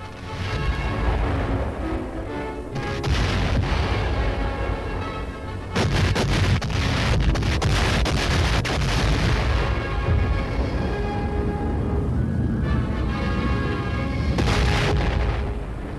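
Heavy naval and air bombardment of Okinawa in World War II archive footage, dense continuous booming blasts and rumbling explosions that persist loudly throughout.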